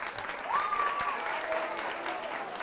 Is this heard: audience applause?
yes